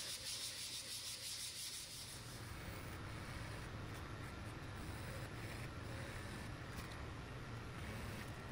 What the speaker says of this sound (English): I did a final wet sanding with water to remove any brass residue and to ensure a smooth surface.